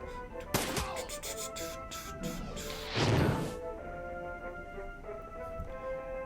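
Gunfire and impacts sound in the game Shadowrun: Dragonfall, a sharp crack early on and a heavier burst midway, both over a sustained musical score.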